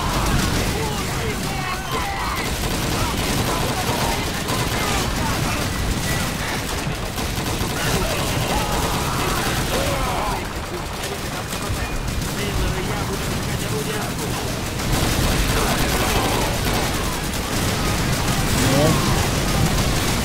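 Rapid bursts of Call of Duty 2 gunfire and explosions during a beach assault crackle continuously, with distant shouting voices mixed underneath throughout.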